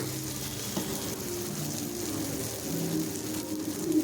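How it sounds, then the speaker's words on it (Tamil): Paniyaram batter poured into the hot wells of a kuzhi paniyaram pan, giving a steady close sizzle and frying crackle that holds evenly throughout with a few soft clinks. "இப்போ எல்லா குழியிலையுமே அளவளவாக சின்ன கரண்டி வச்சுட்டு நம்ம கலந்து வச்ச மாவை ஊற்றிக்கலாம்"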